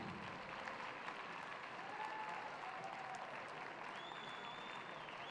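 An audience at a ballroom dance competition applauding, a steady wash of many hands clapping that holds evenly throughout, somewhat distant and fairly quiet.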